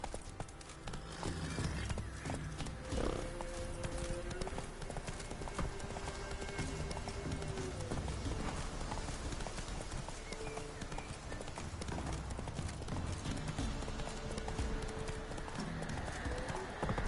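A horse gallops in The Witcher 3 video game, its hooves pounding in a continuous rapid clip-clop under a dense game soundscape, with a neigh rising briefly amid the loud mix.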